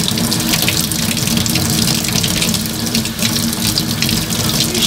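Tap water runs steadily into a sink at close range, a loud continuous rushing splash with no talk.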